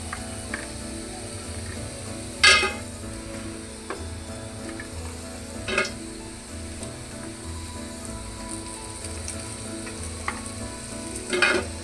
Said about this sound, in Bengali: আমার সবগুলো পাকোড়া ভাজা হয়ে গেছে